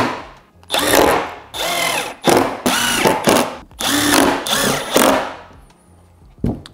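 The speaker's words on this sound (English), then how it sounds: "you can go ahead and screw all of your screws down into the pre-drilled holes" A power drill drives screws into pre-drilled holes in a wooden camper storage platform, five loud whirring bursts of one to two seconds each with short pauses between, then a brief final knock.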